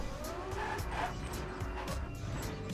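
A car races in Trackmania 2, its engine droning quietly with brief tire squeals and skids throughout, faint and with no voices over it.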